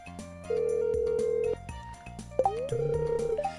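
A telephone in the video game Stardew Valley rings in short electronic tones amid soft game music and chime-like notes, moderately quiet and close.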